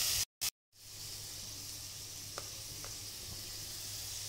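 Chopped bottle gourd (lauki) hitting a hot pan starts a broad, steady sizzle after a brief gap of silence, with a couple of faint clicks as it cooks on without any voices.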